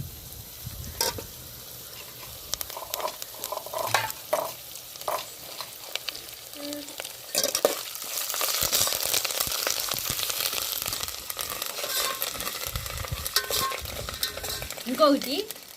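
Curry leaves sizzle and crackle in hot oil for mango pulihora as a utensil stirs the pan, bursts of spitting rising loud toward the end over a steady frying hiss.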